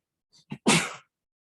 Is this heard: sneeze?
yes